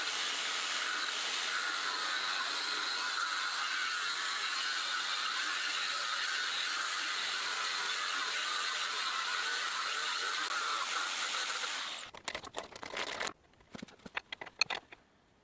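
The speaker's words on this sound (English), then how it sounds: "I'll try and grind off a little bit of this side." Grinding on the thread of a Phoenix Mentor bicycle crank makes a loud, steady, harsh whine for about twelve seconds. It then cuts off into scattered clatter and handling noise.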